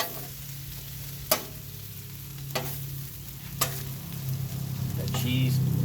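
Sloppy joe mix sizzles steadily on a 22-inch Blackstone griddle beside fried corn, with a few sharp scrapes and taps of a spatula as it is stirred; the frying grows louder toward the end.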